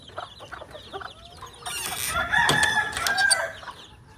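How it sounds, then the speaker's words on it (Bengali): Desi chickens cluck in short, close bursts, then a louder run of squawking and a crowing call rises over the flock in a farm enclosure. "এখানে হচ্ছে আমার কিছু বড় মুরগি আছে এগুলো হচ্ছে সব জুটিয়ালা মুরগি"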